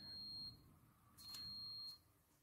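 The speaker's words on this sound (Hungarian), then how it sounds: "most végez a mosogatógép." A dishwasher beeps on finishing its cycle, two faint high electronic tones, one brief and one longer, heard in a quiet kitchen.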